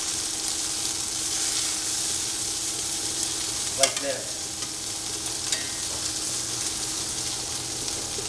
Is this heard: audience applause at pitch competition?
no